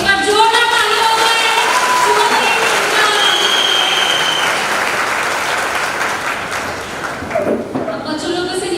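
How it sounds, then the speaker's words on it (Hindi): A church congregation at a Christmas Day ministry program bursts into loud, sustained applause after a children's dance, the clapping running throughout with faint tonal sounds in the background. "एक बार जोरदार तालियों से"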